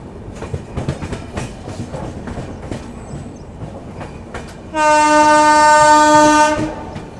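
The Jammu Tawi Kolkata Express rumbles past with rhythmic clickety-clack of wagons, then a loud sustained horn blast sounds for about two seconds near the end.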